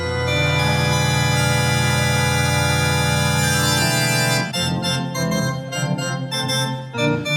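Organ music played on a Sunday radio comedy show, a loud sustained chord that shifts into a busier passage of notes, heard alone without talk.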